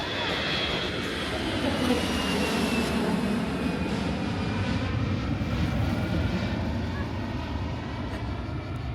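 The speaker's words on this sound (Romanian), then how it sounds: "tocmai ați fost martori aici la un avion care a decolat de pe pista de decolare" A jet airliner takes off from an island airport runway, a loud, broad engine roar that sustains steadily throughout with no breaks, heard outdoors at fairly close range.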